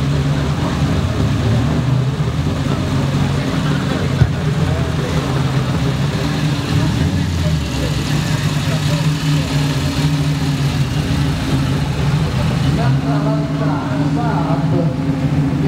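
OSCA MT4 classic racing car at the Mille Miglia, its engine idling with a steady low rumble, loud and close, while people talk nearby.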